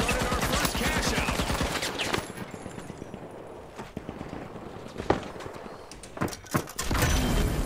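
Rapid bursts of gunfire from the first-person shooter game The Finals, a dense rattling volley at first giving way to scattered single shots and short bursts.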